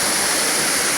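A waterfall at the Portal Alto Vale campsite roars close by, a loud, dense and unbroken rush of falling water with no other sounds.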